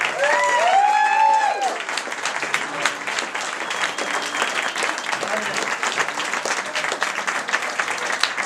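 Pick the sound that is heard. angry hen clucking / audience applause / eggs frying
audience applause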